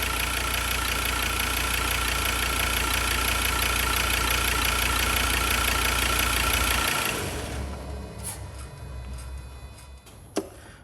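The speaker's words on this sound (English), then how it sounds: "Okay, this level is starting to get a little bit low for me now, so I'm going to shut the engine off." A diesel car engine idles steadily while running an injector-cleaning purge, its loud knocking drone cutting out after about seven seconds and leaving quieter ambient sound with a brief click near the end.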